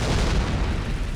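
Cannon fire from the Empire army in Warhammer: Mark of Chaos, a loud, dense, sustained roar of booming blasts with heavy low rumble, no talking over it.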